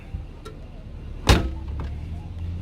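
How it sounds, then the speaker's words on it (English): A single solid thud as the tailgate of a 2001 Mercedes-Benz E320 wagon is shut, preceded by faint rustling and followed by a low idling car hum. "Close the boot"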